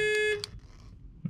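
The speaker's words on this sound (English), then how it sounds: "we press and hold the panic alarm key, then that will set all the alarms off." A loud electronic car panic alarm on a SsangYong Korando tone sounds steadily, then cuts off, leaving brief quieter bleeps and clicks afterward.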